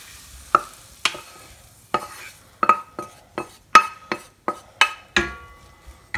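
Chopped onion goes into a hot pan for a meat casserole, with a utensil clanking against the metal in a run of sharp, ringing strikes over a low sizzle. There is no talk.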